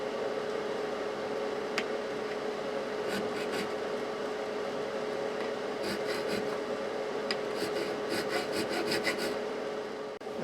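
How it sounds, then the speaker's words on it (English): A fret file rasps steadily across the frets of a Fender Strat guitar, a quiet, continuous scraping texture with faint clicks scattered through it. "Fret file."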